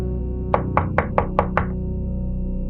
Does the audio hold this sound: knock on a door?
yes